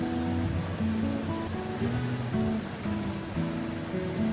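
Tamarind water pours into a pot of plain cooked dal for sambar, making a continuous close rushing, sloshing flow of liquid throughout.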